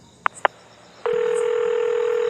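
A steady telephone ringback or dial tone sounds alone after two short clicks, holding level until the end with no voices over it.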